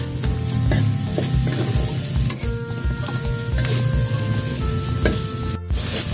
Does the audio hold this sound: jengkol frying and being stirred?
yes